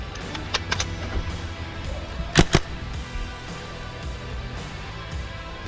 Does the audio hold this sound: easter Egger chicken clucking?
no